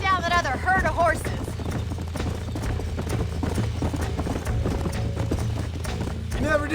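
Rhythmic hoof clip-clop of horses galloping in the video game Red Dead Redemption, with a brief whinny and speech-like voices over the steady pounding.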